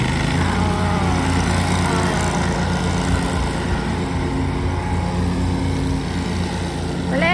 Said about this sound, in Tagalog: Ano siya, magkakat na siya ng grass.